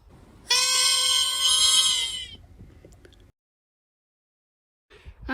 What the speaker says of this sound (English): you've met the horn of Geddon